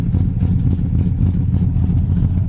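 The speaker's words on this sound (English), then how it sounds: "Dual exhaust comes out the back, sounds real nice" A 1971 Plymouth Duster engine idles through dual exhaust with a deep, steady, throaty rumble, close and fairly loud, with slight pulsing and no voices.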